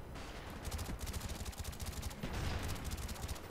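Bursts of automatic gunfire in the Call of Duty Black Ops video game, sharp rapid shots in two long volleys with a short pause between, loud and close.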